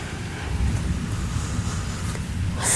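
Heavy rain pours steadily during a strong summer thunderstorm in Bordeaux, with a low continuous rumble of thunder underneath and a brighter burst of hiss near the end, no voices.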